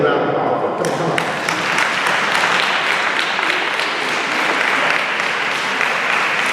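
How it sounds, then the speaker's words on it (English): Audience applause at a Dallas community event supporting families, a full, continuous wash of clapping from a standing crowd that swells in right after a brief moment and holds steady throughout. "let everybody stand and give a round of applause"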